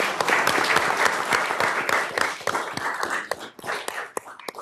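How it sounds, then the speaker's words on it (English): Applause from the audience at a city council meeting, a steady burst of many hands clapping close and loud throughout, thinning slightly toward the end. "Can we give her a round of applause?"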